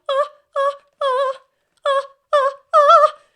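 A coloratura soprano sings short, detached ornamented notes in quick separate bursts, six bright phrases with small pauses between them.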